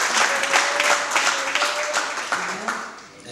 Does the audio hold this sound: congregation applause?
yes